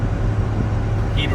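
A 1975 Mercedes-Benz 300D diesel car driving, a steady low engine and road rumble heard from inside the cabin, with a voice talking over it.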